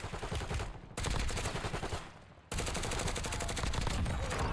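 Incoming gunfire in Warzone crackles in rapid automatic bursts, loud and close, with two brief pauses before the shooting resumes and keeps going.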